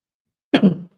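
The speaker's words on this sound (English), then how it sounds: "Oh God, first cough." One short, sharp cough breaks out of silence, close and fairly loud, then fades quickly.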